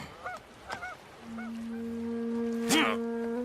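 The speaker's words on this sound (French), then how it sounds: "Des oies sauvages." Wild geese honk in short, scattered calls, a few spaced bursts then one louder cry near the end, set against a sustained low droning tone.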